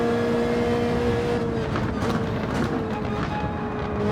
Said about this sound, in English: taking out the Toyota Supra